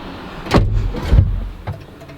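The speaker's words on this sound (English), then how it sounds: "So to pull the door down, there's a strap right there" Door of a 2019 Lamborghini Aventador SVJ pulled down shut by its interior strap: a rustle followed by a couple of close, muffled thuds and a soft latch click, with no talking.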